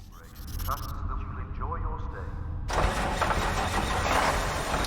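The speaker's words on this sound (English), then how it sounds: "The sound of the loader engine echoes through the maintenance bay." A video-game loader engine cranks and catches partway through, then runs loud and steady, filling a maintenance bay with a broad rumbling roar after quieter mechanical sounds.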